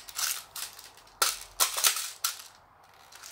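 Airsoft gun being reloaded, a series of sharp plastic clicks and ratcheting snaps in quick irregular bursts, close and fairly quiet with no talking.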